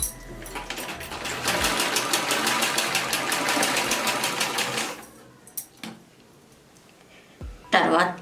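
A sewing machine stitches around a blouse in a fast, even run of clicking stitches for about four seconds, then stops, followed by a few sparse clicks and handling knocks, with a voice speaking briefly.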